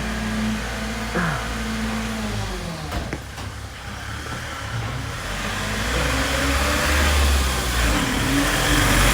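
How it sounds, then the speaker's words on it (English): A garbage truck on a road below a viewpoint in Kyoto's Higashiyama district, its engine rumbling and revving as it passes, growing louder toward the end, no speech. "Except for the garbage truck down on the road."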